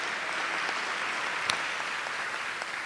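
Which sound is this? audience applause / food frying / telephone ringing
audience applause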